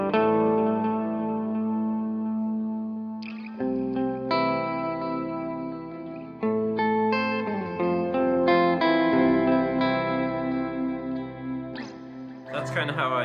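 Electric guitar played through a POG octave pedal on a pedalboard, lead-style sustained notes and swells with octave doubling and chorus-like shimmer, fairly loud and alone.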